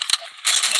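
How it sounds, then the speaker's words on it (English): Quick mechanical clicks and a ratcheting slide of a magazine being swapped on a gun in Call of Duty Mobile, close and crisp, over in under a second. "Changing mag."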